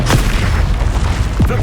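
A Confringo blasting spell from Hogwarts Legacy fires as a loud, close explosive burst with a sharp onset. A second whooshing impact follows about a second later, layered over game sound.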